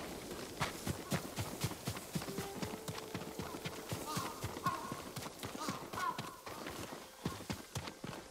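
A farm horse's hooves clip-clop steadily in Ghost of Tsushima, a brisk even rhythm of close hoofbeats over soft outdoor ambience, with faint voices in the background.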